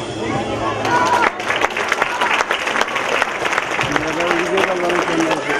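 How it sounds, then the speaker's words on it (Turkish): An audience gives strong applause to the children at a Quran course graduation ceremony, dense, loud clapping up close mixed with crowd chatter and a voice talking over it. "Tüm çocuklarımıza kuvvetli bir alkış rica ediyoruz."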